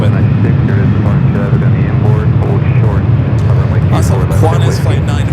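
A Boeing 767 airliner at Los Angeles airport roars loudly and continuously with dense, rumbling jet engine noise and rushing air, with indistinct voices mixed in beneath the roar.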